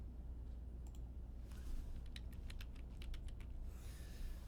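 Faint typing on a computer keyboard while editing a spreadsheet comment: a short burst of crisp, quick key clicks in a quiet room, with no one speaking.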